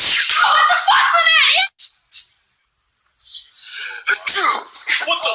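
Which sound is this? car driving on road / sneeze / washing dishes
sneeze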